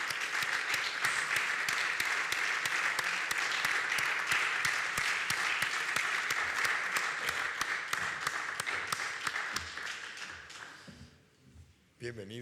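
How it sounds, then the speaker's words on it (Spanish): Audience applause welcoming poet Luis Alberto de Cuenca at a poetry and music gathering: steady, dense clapping from a crowd for about ten seconds, fading near the end as a voice begins to speak. "Un aplauso, Luis Alberto, por favor"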